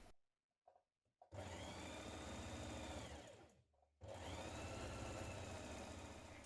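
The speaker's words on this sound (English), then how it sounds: "Now sew the underarm seam of your sleeves and then overlock finish them or zigzag finish them" A sewing machine stitches the underarm seam of a blouse sleeve, opening with a few clicks, then one loud sustained motor run, a brief slowdown and pause, and a second steady run to the end.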